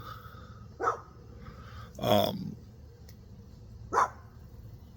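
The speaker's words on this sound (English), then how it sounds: "Why are you barking so much, huh, buddy?" A dog barks three times, sharp and fairly close, with short pauses between, over a low background hum.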